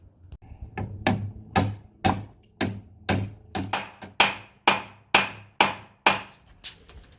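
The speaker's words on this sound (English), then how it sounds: "Do we hit it with a hammer?" A hammer strikes a metal part during a car build on a 2019 Allegro Red, with a dozen sharp, ringing blows at a steady pace, close and distinct with no talk.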